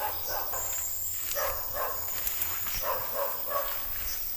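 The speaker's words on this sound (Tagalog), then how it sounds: "tumatahol ang aso" A dog barking outdoors near a calamansi tree, several bursts of muffled barks at a moderate distance, some in quick pairs, over a constant high insect-like hiss.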